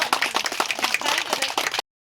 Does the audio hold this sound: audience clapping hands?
yes